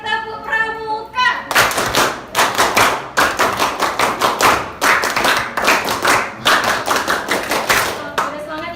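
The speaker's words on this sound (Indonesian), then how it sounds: "2 kali tepuk pramuka" A class of schoolchildren performs the rhythmic Scout clap twice, sharp unison claps in a steady patterned beat filling the room, loud and close, with a brief voice before it starts.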